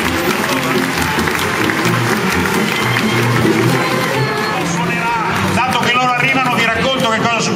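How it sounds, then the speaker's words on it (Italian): Crowd applause at an outdoor evening tribute event in a city square, a sustained dense patter of clapping mixed with cheering and chatter, loud and continuous throughout. "L'applauso è gradito!"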